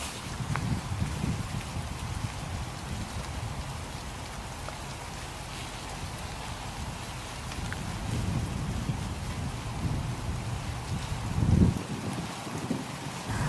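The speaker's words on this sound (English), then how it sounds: "It's raining." Rain patters steadily on a 3F UL Gear Zhengtu 1 ultralight tent at a bike-touring camp, a close, continuous drumming with light wind noise and one brief louder bump near the end.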